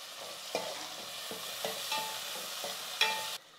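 Chopped tomatoes frying in oil for a brinjal, drumstick and raw mango sambar, with a steady sizzle broken by several distinct scraping stirs of a spoon against the pan, close and alone, ending abruptly.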